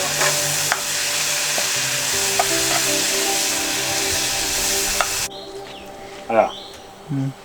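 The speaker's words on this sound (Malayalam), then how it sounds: "അങ്ങനെ നമുക്ക് മീൻ പൊരിക്കാം അല്ലേ" Steady broadband sizzle of fish frying in hot oil in a bell-metal uruli fills most of the clip, with occasional clinks and stirring, then quieter near the end with a few short bird-like chirps.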